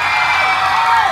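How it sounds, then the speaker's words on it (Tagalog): Audience at a funny pageant-style contest clapping and cheering for a contestant, a dense, loud burst of crowd applause with shouting voices, brief and continuous. "sa pamamagitan ng palakpakan at hiyawan"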